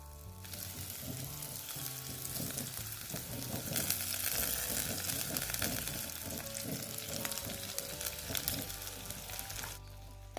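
Onions, curry leaves and rampe fry steadily in a pan, a dense continuous sizzle with scraping stirs running throughout at close range, no voices present.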